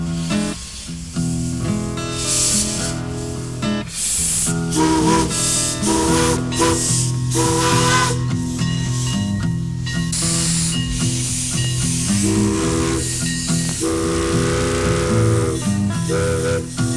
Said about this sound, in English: aboard one of a dying breed, an actual steam locomotive